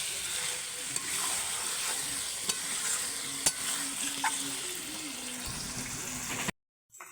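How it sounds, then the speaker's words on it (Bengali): Meat being fried and stirred in a pan while it is cooked down: a steady sizzle with clinks of a spoon against the pan, sustained throughout, then a brief drop to silence near the end. "এই যে আমার মাংস কষা হওয়ার মধ্যেই বন্ধুরা"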